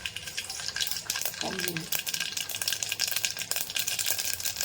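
Mustard seeds crackle and pop in hot oil, a dense steady sizzle with rapid spitting bursts, close and fairly loud.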